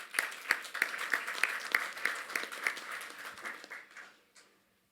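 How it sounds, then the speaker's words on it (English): An audience at an interfaith education forum applauds a speaker with steady, dense clapping that holds for about four seconds before quickly tapering off into quiet. "Let's have a huge round of applause for him."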